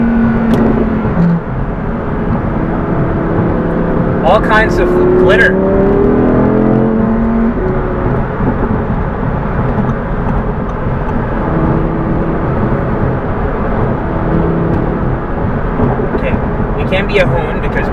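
A 2018 Audi R8 V10 Plus Spyder drives at low RPM, its engine a steady loud drone from inside the car with a rising tone early on, while a person talks over it.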